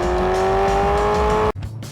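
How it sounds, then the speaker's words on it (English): A car engine revs hard and loud with the exhaust set to its loudest, a sustained rising drone that cuts off abruptly near the end, followed by a quieter rumble. "backs off the traction control, and turns the exhaust all the way up to 11"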